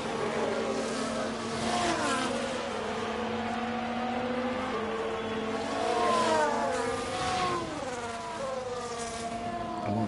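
Formula 1 car engines race in F1 Manager 22 at Sakhir, several cars whining and shifting pitch as they pass close together in overlapping upshifts and downshifts.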